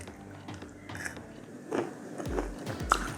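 A crunchy baked keto shakkarpara cracker is bitten and chewed close up, giving a few sharp crisp crunches over a quiet background.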